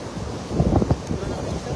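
Typhoon wind buffets the microphone over waves at sea during cast-net fishing, a steady rushing roar with a brief burst of voices in the middle.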